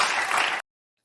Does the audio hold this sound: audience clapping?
yes